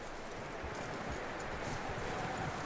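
Horse hooves clip-clopping steadily in Red Dead Redemption 2, a soft continuous patter of hoofbeats on ground, moderately near with faint outdoor rustle and no talk.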